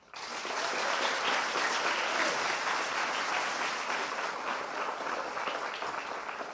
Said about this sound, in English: Please give Najari a warm round of applause.